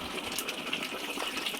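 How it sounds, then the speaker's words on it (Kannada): Water gushes into chicken masala in a pan while palak chicken is cooked, a short, quiet, continuous pour heard alone. "ಸ್ವಲ್ಪ ನೀರು ಹಾಕ್ಕೊಂಡು"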